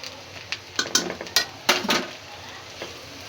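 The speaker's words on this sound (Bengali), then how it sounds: "কাঁচামরিচ, পেঁয়াজ, রসুন, লবণ দিয়ে এটাকে একটু ভেজে নিলাম" Green chili, onion, garlic and salt fry in a pan with faint sizzling, while a utensil scrapes and clinks against the pan in a handful of close, irregular stirring strokes.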